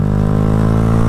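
A Honda Grom motorcycle engine held at full throttle, a steady, loud mid-pitched drone with no break and no talk.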